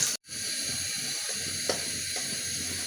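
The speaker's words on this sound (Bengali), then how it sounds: "তেল গরম হয়ে গেছে আমি এখন পেঁয়াজ দিয়ে দেব" A steady, loud hiss of onions frying in hot oil fills the clip after a brief cut, continuous and close, with no voices.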